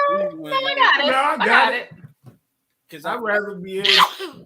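A single human sneeze bursts out amid conversational speech, with people talking before and after it in a close indoor setting.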